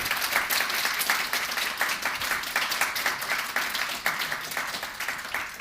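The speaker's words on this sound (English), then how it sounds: "Can I first of all have a warm round of applause for Mohammed and Fawaz" An audience at a human rights gathering gives a warm, dense round of applause for two guests, sustained and even, with no talking over it.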